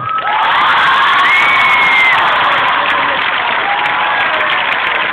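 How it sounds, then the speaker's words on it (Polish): A large crowd cheers, whoops and applauds for the Asseco Resovia volleyball team at a Rzeszów Polish championship celebration, a loud continuous roar with high shouts rising above the clapping. "Brawa, brawami proszę bardzo."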